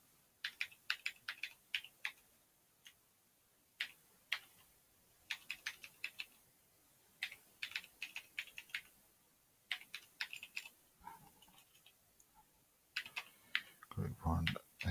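Computer keyboard typing in short clustered bursts of clicks and key taps during setup of a Linux system, with pauses between runs; keys suffer debounce problems. Close and fairly quiet, with a brief low thump near the end.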